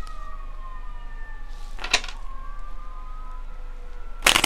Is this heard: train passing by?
no